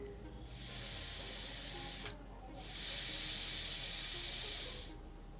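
A pressure cooker cooking kabuli chickpeas vents steam in two long, loud, steady hisses separated by a short quiet gap, with a faint background hum underneath.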